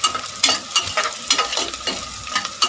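Onions frying for chicken biryani, a steady close sizzle broken by repeated scraping stir strokes about every half second, with no voices.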